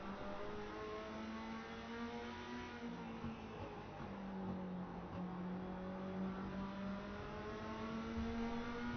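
Dirt mini stock race cars race at Slinger Speedway, engines droning and revving steadily with rising and falling pitch as several cars run together at a moderate distance, with no talk heard.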